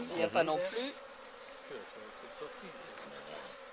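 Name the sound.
bees buzzing at an open beehive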